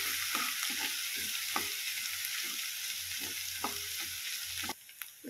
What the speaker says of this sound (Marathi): लसणाला आपण छान लालसर होईपर्यंत छान भाजून घेऊ